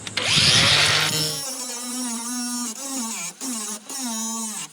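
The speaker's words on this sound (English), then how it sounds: "Just cut the head off him with the grinder." An angle grinder revs up with a harsh whine, then runs steadily cutting off a rivet head, its motor pitch dipping as it cuts and briefly pausing twice, loud and close.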